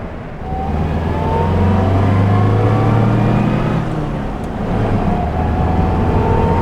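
A Wolseley 1500 classic car engine pulls steadily and loudly, its pitch climbing as it accelerates to 40 mph, then dips briefly at a gear change before rising again.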